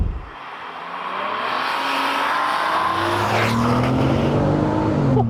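A supercharged 500bhp VW Golf MK4 R32 with a DSG gearbox accelerates hard, its engine note climbing loud and continuous through rising revs and a gear change, close by with no talk.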